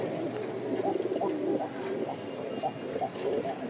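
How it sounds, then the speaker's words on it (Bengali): Rajshahi high-flying pigeons, sky-blue round-spotted birds, cooing in a close series of soft, throaty rolling calls repeating every half second or so, fairly loud and near over a faint background hum, with no talk. "প্রচুর ডাক এইসব কবুতরের।"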